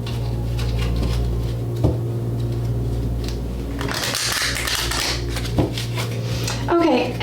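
Tarot cards shuffled by hand at the close of a reading, a soft papery rustle swelling in the middle few seconds with a couple of sharp taps, over a steady low hum.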